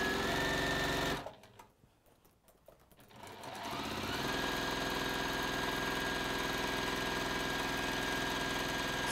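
A sewing machine stitches a large polar bear quilt. Its motor hums steadily, drops to a lull for a couple of seconds, then picks back up into a continuous, close, even whir.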